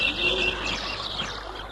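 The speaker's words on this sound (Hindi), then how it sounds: "वो एक जंगली चिड़िया की आवाज है।" A wild bird calls at night in a radio drama scene, with soft chirping coos over a steady hiss and no talking.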